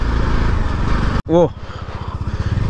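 A motorbike rides along a road dug up for construction, its engine a steady rough putter close by, briefly cut off by a loud voice before the rhythmic chugging resumes.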